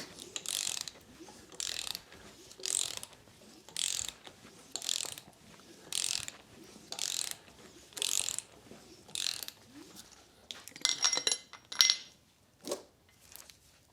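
A hand ratchet turns over the engine of a 1986 Pontiac Firebird, giving about a dozen evenly spaced bursts of rapid pawl clicking with brief pauses between strokes, close and clear, ending in a few quicker metallic clicks.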